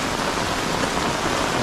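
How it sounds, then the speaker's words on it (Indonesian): Heavy rain pours down on a village path through rice fields in Garut, a dense, uniform hiss of drops that stays loud and unbroken for the whole moment. "Wah, ini hujannya juga deras sekali."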